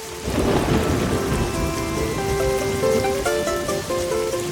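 Heavy rain pours steadily with a deep rumble of thunder underneath, while a soft tonal melody plays over the downpour.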